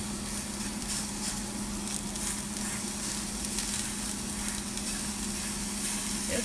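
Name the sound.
hamburger patty sizzling as it is flipped in the pan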